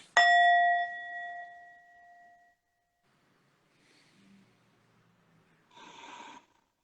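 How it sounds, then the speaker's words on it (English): A single meditation bell is struck once, a bright ring that rings out and decays slowly over a couple of seconds, followed by quiet and a soft breath. "I'm gonna play the bell to start and to finish."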